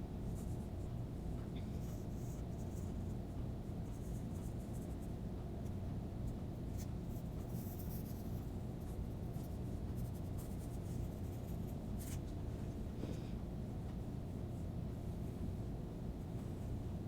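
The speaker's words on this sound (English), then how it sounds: "so we can go ahead and start drawing them in" A pencil sketches tree branches for a bird painting, a faint scratchy stroking heard over a steady low background hum.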